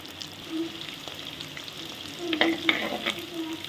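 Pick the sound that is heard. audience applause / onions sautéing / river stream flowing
onions sautéing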